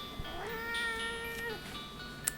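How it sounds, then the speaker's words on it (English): A small cat in a trivia show studio gives one clear, drawn-out meow with a rising then steady tone, close and alone over quiet room noise. "We're going to show you a little studio cat."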